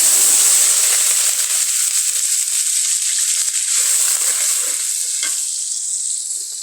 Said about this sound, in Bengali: এখন আমি হালকা একটু পানি দিয়ে দেবো এই যে দেখেন একটু পানি দিয়ে